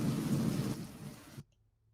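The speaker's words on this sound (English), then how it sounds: "Hold on, I'm gonna take this rain off of here." Heavy rain and rolling thunder from a storm ambience track roar loudly and steadily as a dense wash, then cut off abruptly, leaving near silence.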